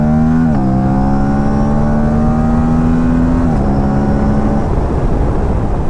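An Aprilia RS 457 motorcycle fitted with a DNA air filter accelerates hard along an open road. Its loud, steady engine note climbs and dips at gear changes, close and unbroken, with no talking.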